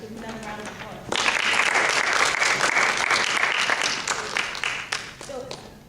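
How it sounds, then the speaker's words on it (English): A poetry audience breaks into loud, sustained applause, many hands clapping together in a dense wash that starts suddenly and carries on for several seconds, tapering slightly at the end, with talk heard briefly before it begins. "Give me another round of applause."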